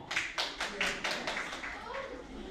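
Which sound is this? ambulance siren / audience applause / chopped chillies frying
audience applause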